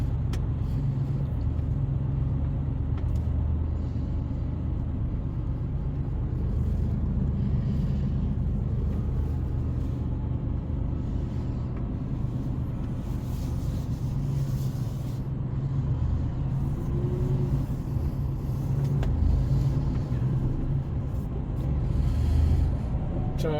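Steady low engine rumble and road roar from inside a car cruising at speed on a Korean expressway, continuous throughout with no talking.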